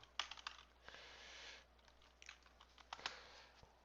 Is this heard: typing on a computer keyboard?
yes